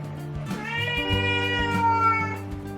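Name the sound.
cat meowing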